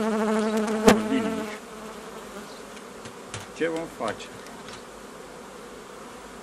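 Honey bees buzz around an open hive while a colony is being moved, a steady close hum filling the background as a voice speaks briefly near the start and a few short sounds follow.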